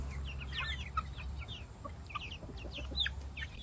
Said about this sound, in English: Some pretty ass chickens.